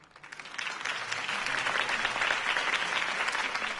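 A crowd applauds after a campaign speech for Harvey Dent: dense, sustained clapping that swells in over the first half second and then holds steady and loud, with no voices over it.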